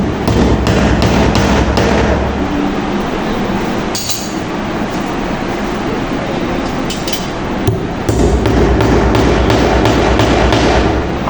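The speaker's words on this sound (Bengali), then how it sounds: "আমি অর্ধেক হাতুর দিয়ে মারলাম" A hammer drives screws into a Singer sewing machine, giving a series of sharp metallic taps in irregular bursts over a loud, steady background noise.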